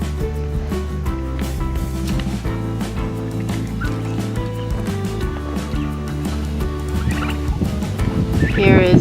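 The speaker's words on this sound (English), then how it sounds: "Here is a baby turkey eating a apple scrap." Baby turkey calling while it pecks at apple scraps in a hot, shaded chicken coop, steady layered chirps and gobbles mixed with other fowl nearby, close and fairly loud throughout.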